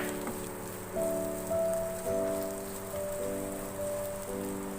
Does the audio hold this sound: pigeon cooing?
no